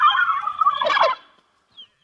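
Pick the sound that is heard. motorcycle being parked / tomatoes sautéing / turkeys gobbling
turkeys gobbling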